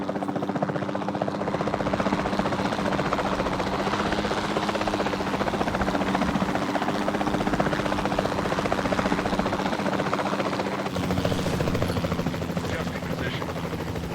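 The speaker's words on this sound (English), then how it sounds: "Then the sensible thing is to take a capture team helicopter." A capture team helicopter from Jurassic World Evolution 2 flies on, its rotor thrumming as a loud, steady, close drone that persists without a break, with a voice speaking over it.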